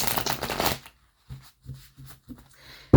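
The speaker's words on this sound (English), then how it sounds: "These cards shuffled so weird just then" A deck of tarot cards shuffled in quick riffling bursts, a dense rush at first, then a pause and several short soft flutters, close and alone.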